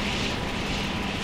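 A constant rotor-like helicopter engine roar in a video game fills the moment, loud and unbroken, with no talking.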